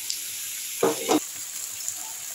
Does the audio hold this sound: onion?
yes